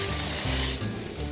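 Pork and eggplant stir-frying in a Sichuan wok with Sichuan peppercorns, with water splashed into the hot oil, sizzling loudly and steadily with a brief rise in hiss, no voices.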